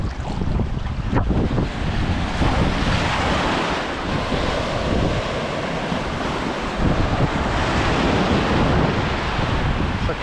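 Ocean surf breaks continuously onto the beach at Arraial do Cabo, Rio de Janeiro, a loud, steady wash of waves mixed with heavy wind buffeting the microphone.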